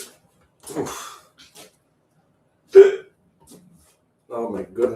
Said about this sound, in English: With the hiccups all of a sudden.